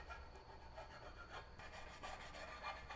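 Welding slag is scraped off steel with a sharp tool, giving a steady rough rasping and rubbing sound, close up and continuous, with no talk.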